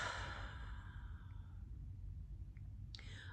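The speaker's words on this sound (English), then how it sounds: "Open mouth, exhale." Open-mouth exhale during yoga breathing, a long, soft, airy breath out that fades over about a second and a half, close and gentle, followed by quiet with a faint click near the end.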